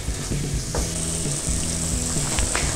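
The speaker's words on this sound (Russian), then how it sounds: "Теперь добавляем томатную пасту, карри. Хорошо все перемешиваем." Tomato paste and curry stirred into chicken curry in a hot pan: a steady sizzle with soft scraping and stirring knocks of a spoon, close and continuous, with no voices.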